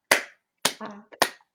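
A body-percussion hand clap in a drumming lesson, three sharp isolated strikes with a short voiced sound between the second and third.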